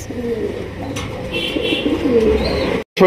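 Native Bangladeshi coloured Rajgolla pigeons coo softly in repeated low throaty calls, close up, with a little background rustle and a brief dropout near the end.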